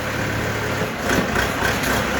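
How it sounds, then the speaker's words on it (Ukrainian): A four-cylinder diesel tractor engine idles steadily with a low, continuous rumble, holding an even loudness throughout. "4-циліндровий дизельний двигун класний потужний трактор"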